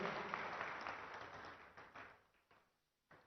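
Indoor audience applause at a government policy launch event, a dense round of clapping that fades away, then a few scattered final claps.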